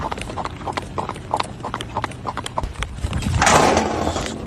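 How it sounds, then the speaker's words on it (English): Rhythmic clip-clop of hooves from a running horse, mid-distance, with a burst of rushing noise near the end. "You hear the horse running to the side."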